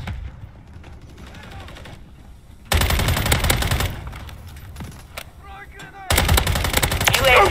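Gunfire in the Call of Duty MWIII beta on the Rust map, loud close bursts of rapid automatic fire in two heavy stretches separated by quieter distant shots and clatter, with brief game voices.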